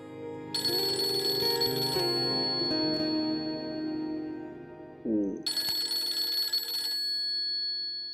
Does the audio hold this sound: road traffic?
no